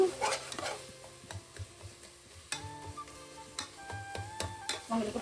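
Ginger and garlic fry in hot oil for a home-style prawn biryani, a soft steady sizzle running underneath with occasional clinks and stirring knocks from a pan close by.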